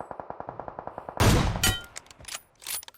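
Gunfire in PUBG Mobile, a quick rhythmic string of light shots followed by a loud heavy blast and a couple of sharp trailing impacts, close and punchy.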